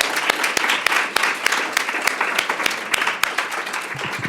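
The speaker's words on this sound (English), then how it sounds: "I just want to ask everybody to give our panel a big round of applause." A panel audience gives a round of applause: moderate, steady clapping with distinct individual claps standing out from the crowd, continuing throughout without voices.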